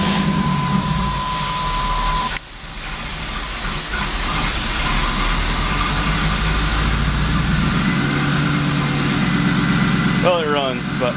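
A Pontiac Trans Am's engine, freshly repaired, idles with a steady, loud rumble after a brief dropout. Someone talks over it near the end.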